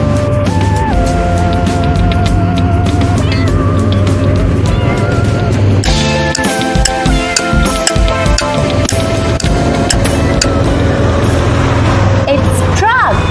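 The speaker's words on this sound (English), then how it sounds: "It's truck." A truck engine in a children's sound-guessing game: a loud, steady engine drone with harmonic tones and a shift in texture midway, running throughout with no talk.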